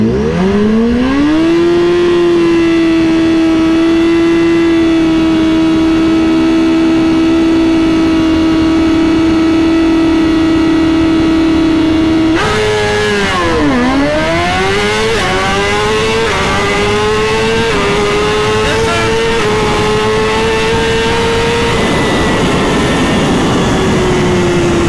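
BMW motorcycle engine revving hard and accelerating, a high sustained whine that holds steady, drops, then climbs repeatedly through the gears, loud and close with no talking.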